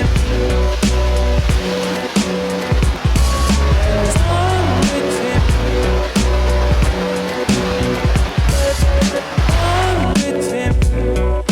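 A couple of trucks driving off-road nearby, engines revving loudly and continuously with squealing tires and rising and falling motor pitch.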